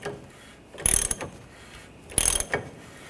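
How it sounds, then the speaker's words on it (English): A bearing tool is tightened to pull the front wheel hub of a 2013-2022 Buick Encore into its new bearing, giving two loud grinding, ratcheting strokes of metal under strain with quiet gaps between them. "As I tighten this, I'm going to pull the hub into the bearing."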